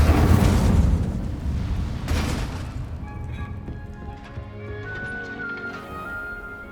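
A fire spell cast in Hogwarts Legacy, a loud whooshing burst of flame that blooms and then fades over several seconds, with a second flare partway through and a faint ringing tail.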